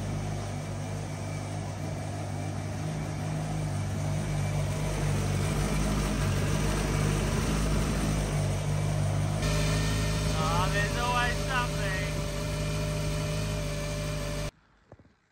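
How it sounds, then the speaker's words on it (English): A Honda K-series engine with a billet block idles with a steady, even hum and low drone throughout, then stops abruptly near the end. "Engine sounds pretty happy, so I'm stoked about that."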